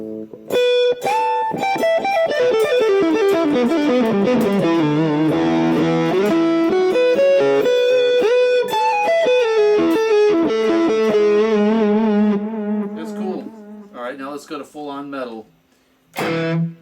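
A Bullfighter D160SE digital electric guitar runs through its onboard delay effect, playing a descending run of sustained notes that echo and trail before a few sparse plucks near the end.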